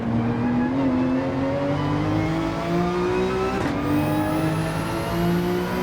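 A touring race car in a video game races at the Nürburgring, its loud engine droning and rising steadily in pitch as it accelerates through the gears, close and continuous.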